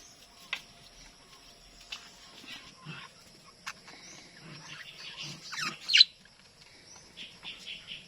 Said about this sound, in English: The other budgies are inside here.